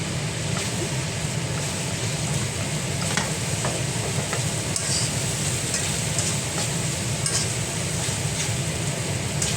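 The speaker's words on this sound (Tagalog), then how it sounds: "Mix lang natin, i-mix yung yogurt, i-mix natin." Spoon stirring a spoonful of yogurt into a mixture in a pan, a steady scraping swirl that runs the whole time over a constant low background hum, with no talking.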